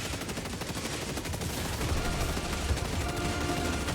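Rifle fire against Automatons in Helldivers 2, heard as dense, rapid crackling shots that blend into continuous gunfire over a chaotic battle din, with no talk.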